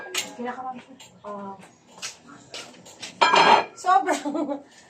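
Large cooking pots clank and scrape together in a home kitchen, with one louder metallic burst midway, while people talk throughout.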